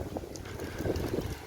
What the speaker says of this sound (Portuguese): Nossa, tá ventando muito.